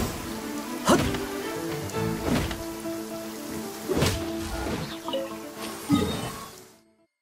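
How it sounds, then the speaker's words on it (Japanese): Steady rain falls in the video game Genshin Impact, a continuous wash of drops heard alone, with a few louder splashes or thuds recurring every second or so before it fades out. "雨か。"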